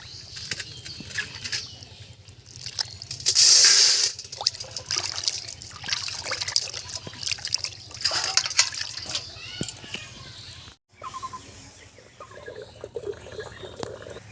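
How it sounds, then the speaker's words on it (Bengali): Goat tripe is washed in a bucket of water, with sloshing, splashing and dripping, wet handling sounds coming in bursts and pauses, close and fairly quiet. "এবার বালতির জলে ধুয়ে নেব।"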